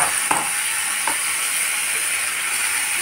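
Finely chopped tomatoes fry in a pan for curry, a steady bright sizzle and hiss throughout with a couple of faint stirring clicks, close and even in loudness.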